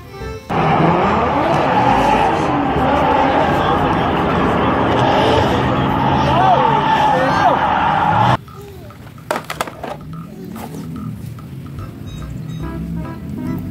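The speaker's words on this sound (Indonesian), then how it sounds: "Mobil balap." A toy race car gives off a loud, continuous engine roar mixed with squealing tire effects for about eight seconds. The roar stops abruptly, and scattered clicks and handling clatter follow.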